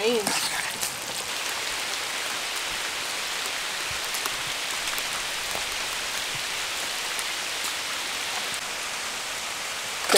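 Rain pours steadily at a backcountry campsite by the Ottawa River, a dense even patter drumming on tent or tarp surfaces close by, continuous and fairly loud, with a voice briefly singing at the start.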